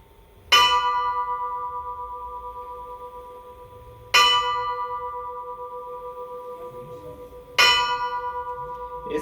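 Three slow, loud strokes of a church bell toll at even intervals, each ringing out and decaying into the next, sounding a funeral dobre in a colonial Brazilian town in Minas Gerais.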